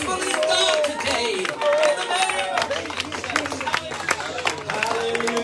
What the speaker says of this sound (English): Let's clap our hands to the Lord.